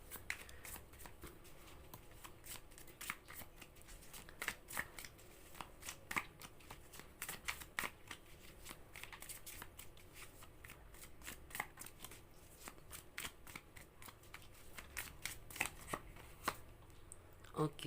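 Tarot cards shuffled by hand in a steady run of crisp riffling bursts and soft flicks, close and fairly quiet, continuing for the whole stretch with no voice over it.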